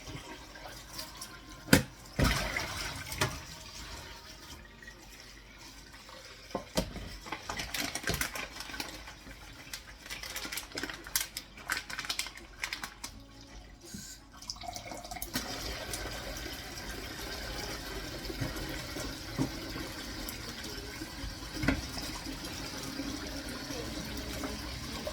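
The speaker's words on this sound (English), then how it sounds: "Nice hot water, just had jelly in it, so nice quick rinse" Hot tap water rinses jelly out of a bowl in a home kitchen, a running, splashing stream with clinks and knocks of the bowl, continuous and close with a voice speaking faintly at moments.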